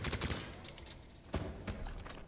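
Gunfire in the Resident Evil 2 video game, a burst of several quick shots at the start followed by a few more scattered bangs, moderately loud over a busy game-sound background.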